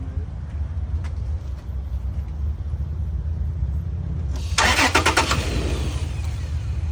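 A 2008 Toyota 4Runner, fresh coil pack fitted on cylinder four, cranks briefly and catches, its engine roaring up loud over a steady low rumble and then settling into a running idle.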